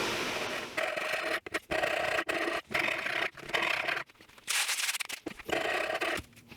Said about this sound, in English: back to the manual method using a rasp